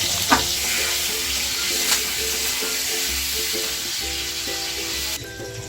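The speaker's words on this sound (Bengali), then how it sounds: "এবার আমি ডিমটা হালকা করে ভেজে নেব" Eggs lightly frying in hot oil in a pan for a shahi egg korma, giving a steady, close sizzle and crackle that runs throughout with no talking.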